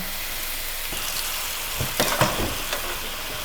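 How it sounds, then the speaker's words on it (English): Food browning in a hot pan sizzles steadily, with a few louder scraping stirs and crackles near the end, close and alone without voices. "So we'll let this cook for about 3 to 4 minutes on either side and then we'll flip them."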